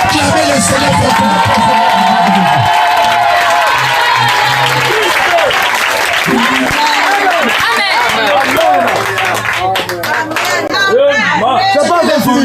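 Church congregation cheering, applauding and shouting praise to the Lord, a loud sustained crowd roar with clapping and voices mixed throughout.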